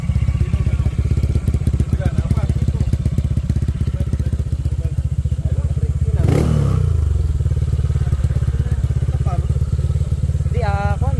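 A motorcycle on a break-in ride toward Canting Falls, its engine droning steadily up close, with a loud clattering thump midway through and a brief rising rev near the end.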